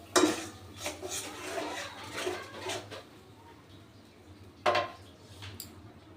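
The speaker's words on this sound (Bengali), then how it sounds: "এবার আমি আবার একটু নাড়া দিয়ে দেবো।" Spices with turmeric powder and salt being stirred in a cooking pot for a pabda fish dish: a few metallic scrapes and clinks of a spoon against the pan, close and fairly quiet, with a sharper clack near the end.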